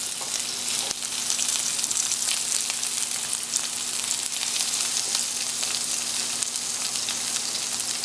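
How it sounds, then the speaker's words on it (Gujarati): Boiled potatoes sautéing in olive oil over high heat, a steady loud sizzle and crackle of frying that holds evenly from start to finish with no voices. "ઓલિવ ઓઇલમાં આપણે નાખી દઈશું આપણા બાફેલા બટેટા ને ખાલી આપણે એને હાઈ ઉપર એને જરાક સોટે કરવું છે"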